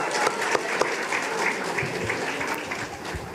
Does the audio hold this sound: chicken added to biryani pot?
no